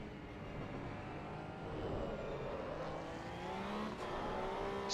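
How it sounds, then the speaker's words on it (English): A Porsche Cup race car in the AC Evo racing game at the Fuji circuit accelerates on throttle, its engine note climbing steadily in pitch as it revs, heard alone at moderate level. "On throttle, starting to accelerate."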